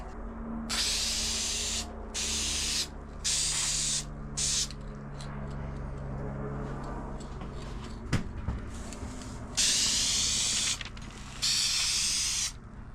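Aerosol spray paint hisses in about six separate bursts of one to two seconds each as a final coat goes on in a shop, applied without primer, with quieter gaps and a faint clack between passes.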